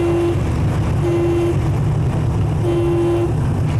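An auto-rickshaw horn toots three times in short, flat bursts over steady loud traffic rumble, the honks evenly spaced and insistent on a busy road.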